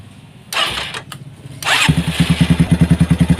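A motorcycle with an oil-feed problem to the cylinder head is cranked with a couple of sharp bursts, then catches and settles into a loud, close, rhythmic idle thump.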